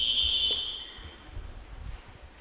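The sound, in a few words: quiz buzzer being rung by a contestant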